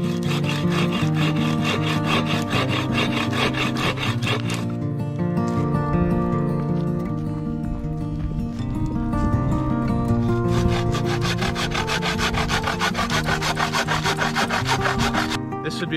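Continuous hand sawing through wood, steady rhythmic back-and-forth rasping strokes, loud and close, with a brief change in pitch midway.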